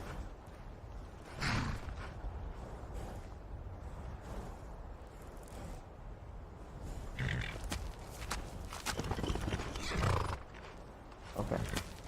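Horse sounds from the video game Skyrim: a few whinnies and hoof clip-clops at moderate distance, in brief bursts over a steady background din.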